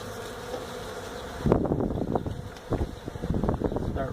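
Honey bees buzz near the microphone during a hive removal in Mission, Texas, their faint drone broken by bursts of rustling and handling noise.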